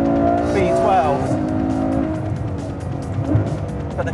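A Ferrari F12 Berlinetta V12 engine roars close up while driving, rising and falling through revs with a sharp upshift sweep, under a voice talking over it.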